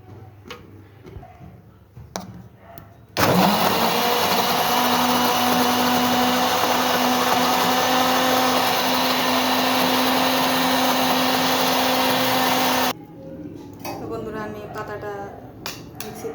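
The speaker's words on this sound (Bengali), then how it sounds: "তাড়াতাড়ি করার জন্য মিক্সিতে দিচ্ছি আর দিয়ে দেবো চার পাঁচটি কাঁচা লঙ্কা" An electric mixer grinder whirs loudly as it grinds ghetkol leaves with green chillies, a steady high motor drone that runs for about ten seconds, with a voice and handling clicks before and after.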